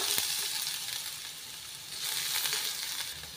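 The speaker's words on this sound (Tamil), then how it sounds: "பட்டரில் நல்லா வதக்கி எடுத்துக்கோங்க." Vegetables sauté in butter in a pan for vegetable soup, a steady close sizzle and crackle with faint stirring scrapes, no voices.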